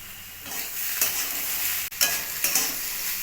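Banana stem being stirred and fried in ghee in a pan, a steady close sizzle with repeated scraping strokes of the spoon, alone without talk.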